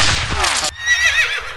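A horse lets out a loud, close neigh as its rider rears it, followed by a shorter, higher whinny trailing off, with faint hoof clatter underneath.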